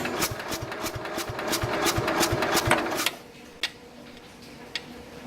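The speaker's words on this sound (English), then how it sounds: "Geez, it's still cranking over slow." A Wisconsin S8D engine on a 1969 Bolens 850 garden tractor cranks over slowly with poor compression, a rapid, even chugging clatter for about three seconds that then stops, leaving faint isolated clicks.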